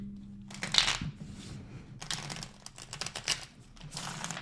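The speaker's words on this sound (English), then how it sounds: "I don't know why I want to shuffle this again." A deck of tarot cards is shuffled in crisp, riffling bursts and soft scuffing handling noises, heard up close and fairly quiet with no talking.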